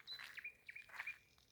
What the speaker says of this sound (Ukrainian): У солов'я декілька видів є звуків.